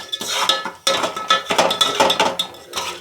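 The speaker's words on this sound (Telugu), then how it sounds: "ఆ జొన్నలు ఆయిల్లో మునిగేలాగా మనం కొద్దిసేపు ఇలా కదుపుతూ ఉండాలి ఫ్రెండ్స్" Sorghum grains stirred in hot oil in a pot make repeated close scraping, rattling and clinking against the metal, in steady bursts with brief pauses, loud and alone.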